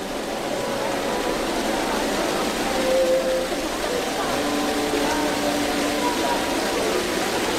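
Rain falls steadily as a dense, even hiss that holds at the same level throughout, with faint tonal sounds drifting over it.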